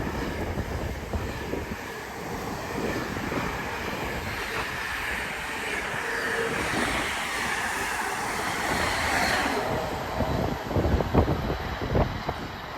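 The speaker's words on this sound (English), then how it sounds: "Another Pendolino speeding through now." A Pendolino class 390 electric train speeds through Lichfield Trent Valley station on the West Coast Main Line at night, a loud, continuous rushing roar with rattling wheels building toward the end.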